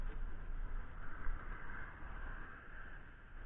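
A Honda CT90 motorcycle idles quietly outdoors as a low, steady, faint rumble with some wind-like noise over it.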